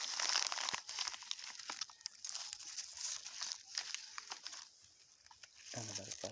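Plastic litter crinkles and crunches in short bursts, picked up by hand during an outdoor nature cleanup on a Tuesday afternoon, up close, with faint background noise.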